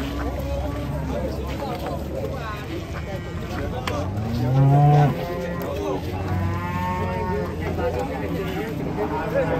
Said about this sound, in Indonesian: Sapi betina yang menakutkan.